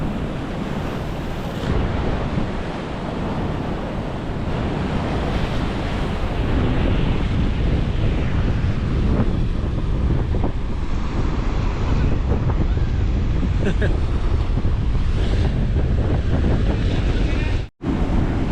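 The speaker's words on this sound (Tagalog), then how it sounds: "Lakas ng alon, grabe." Loud, continuous roar of heavy surf crashing on rocks nearby at Avoca, with wind buffeting the microphone throughout and a brief dropout near the end.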